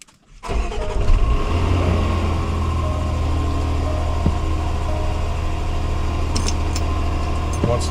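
A 2016 Land Rover LR4 engine starts after a brief quiet moment, then settles into a steady, loud low idle that runs on to the end, with a few small clicks near the close.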